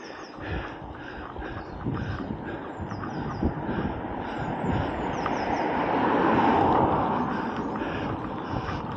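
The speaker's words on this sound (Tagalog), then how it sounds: "Ang lakas ng hangin eh." Strong wind roars steadily against the microphone, a broad rushing buffet that swells louder toward the middle and stays constant throughout, with no voices.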